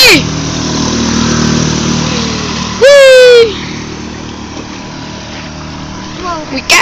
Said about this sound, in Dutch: er komt toch een 6 pk motor of niet?